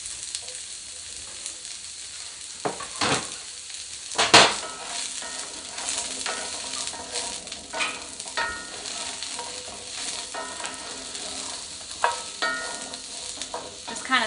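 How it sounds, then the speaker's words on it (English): Carrots fry and brown in olive oil after onions and garlic, a steady sizzle broken by repeated scraping stirs and occasional louder clatters of the utensil against the pan. "I'm going to go ahead and throw in my carrots"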